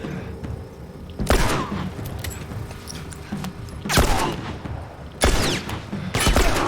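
Gunshots ring out in The Last of Us during a Pittsburgh combat sequence: three or four loud, sharp blasts spaced a few seconds apart over a steady, noisy game ambience.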